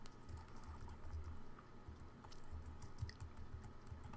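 Soft, rapid keystrokes patter on a computer keyboard while Android code is typed, a faint, busy run of clicks with no one speaking.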